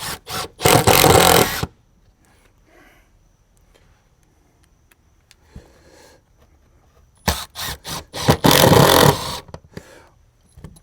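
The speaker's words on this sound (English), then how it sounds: "You want to slightly recess the heads of these screws, but you don't want to over tighten them." A power driver sets screws into faux wood paneling in two loud whirring bursts of a few seconds each, separated by a long quiet stretch with faint handling noises.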